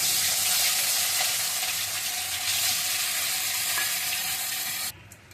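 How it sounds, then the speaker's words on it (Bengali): Katla fish fries in hot oil, giving a steady loud sizzle and crackle that runs continuously for several seconds before cutting off abruptly near the end. "সবগুলো মাছ ভেজে উঠিয়ে নিলাম।"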